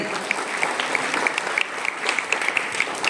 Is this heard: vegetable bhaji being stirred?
no